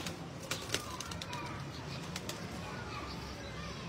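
Pigeons at a breeder's loft in Faisalabad give soft, low cooing mixed with a few sharp bursts of flapping wings. The sounds are fairly faint, with a murmur of voices nearby.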